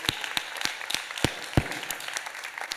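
A workshop audience claps in scattered, uneven fashion: separate sharp hand claps ring out one after another at moderate distance, never swelling into a full ovation, with no talking over them.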